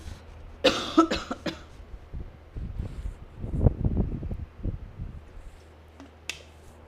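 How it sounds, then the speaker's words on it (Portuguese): A burst of coughing near the microphone from a speaker with a sore throat, a few rough hacks in quick succession, followed by quieter rustling and breathy noises. "Toda hora tossindo"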